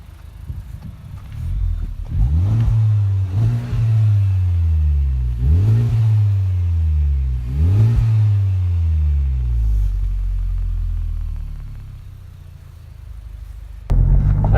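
A Honda Civic Type R FK8 engine revs repeatedly, with four or five sharp rises and falls in pitch over a steady low rumble. A final burst comes near the end.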